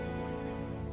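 Steady rain pours down during a nighttime storm, a dense continuous hiss of drops on surfaces, faint and unbroken with no voices.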